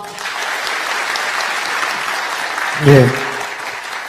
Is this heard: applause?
yes